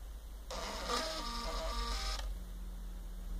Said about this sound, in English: All done with a little Python and a Pipsta printer to play with